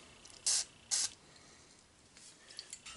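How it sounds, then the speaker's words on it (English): Two short, close hissing bursts of penetrant sprayed onto a diesel injector, separated by a brief pause, followed by faint handling noises in a quiet room. "Just a little bit of penetrant."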